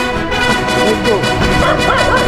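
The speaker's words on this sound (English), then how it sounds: "Why you are angry, little dog?" A small dog in Da Nang, Vietnam yips and barks agitatedly in short bursts, fairly close and loud, with some whimpering tones over a busy street background.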